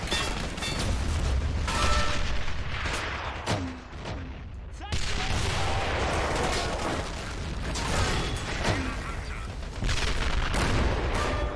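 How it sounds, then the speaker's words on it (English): Mortar fire in the World War II strategy game Men of War: Assault Squad 2, with repeated booming shots and crackling gunfire in dense, loud layers and a short lull partway through. "Look at how that mortar was firing."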